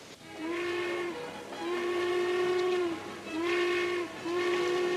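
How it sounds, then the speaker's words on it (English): A steam train whistle sounds as a train pulls out for Salt Lake City in a 1953 Western film, giving four long, loud wailing blasts with short gaps and no talk. "The train just pulled out."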